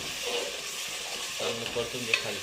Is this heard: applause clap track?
no